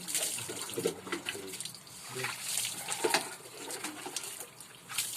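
Water is poured and splashed onto someone's back in uneven bursts of spattering and trickling, with people talking close by.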